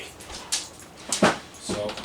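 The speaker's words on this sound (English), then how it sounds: "my dog's underneath me hoping I drop something" A pet dog whimpers softly and intermittently from beneath a person cooking rotisserie beef in an air fryer, a few brief whines over a quiet kitchen background.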